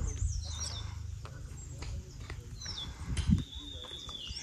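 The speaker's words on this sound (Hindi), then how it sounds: "चिड़िया की आवाज़ सुनना जो उच्च हिमालय क्षेत्रों में बोलती है" Thin, high calls of a high-Himalayan bird whistle and chirp intermittently in an open outdoor setting near Dhanaulti, Mussoorie, faint against low background rumble and some distant thuds.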